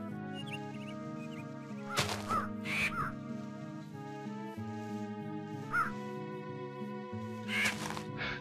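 A crow caws several times over a steady looping synth soundtrack in the Minecraft Twilight Forest mod, giving harsh, clipped calls in short clusters with gaps between them and no voices.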